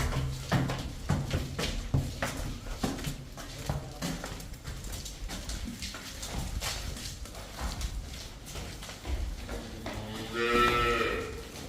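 Cattle on a dairy farm: a cow lets out a clear, fairly close moo near the end, preceded by irregular clattering knocks and shuffling of animals moving about, with no talking.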